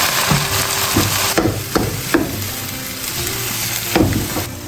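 Diced potatoes stir-fried in hot lard with scallion, ginger and garlic, a steady loud sizzle broken by several sharp scrapes and knocks of the spatula against the pan, with no talk.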